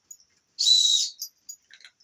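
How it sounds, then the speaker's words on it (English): A survival whistle built into a Buck Selkirk fixed-blade knife gives one sharp, shrill blast of about half a second, then a brief chirp and a few faint squeaks, heard alone in quiet surroundings. "Yes, it has a whistle."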